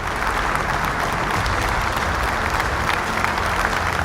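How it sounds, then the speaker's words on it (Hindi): A studio audience at a family Bible quiz show gives a loud, sustained round of applause to welcome a couple joining as a quiz team, with a thick, unbroken wash of clapping and faint crowd murmur. "तो जोरदार तालियों से स्वागत कीजिए मिस्टर जेकब आनंद फ्रांसिस का और मिसेस जैस्मिन"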